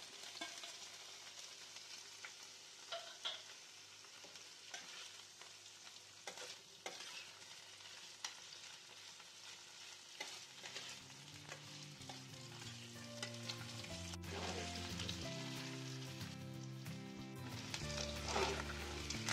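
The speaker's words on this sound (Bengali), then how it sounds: "এবার এতে পনিরগুলো দিয়ে ভালো করে ভেজে নেব।" Paneer cubes frying in oil with cumin seeds and bay leaves give a steady, close sizzle with scraping stir strokes, and tonal background music grows louder in the second half.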